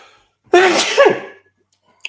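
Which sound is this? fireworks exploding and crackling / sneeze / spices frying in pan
sneeze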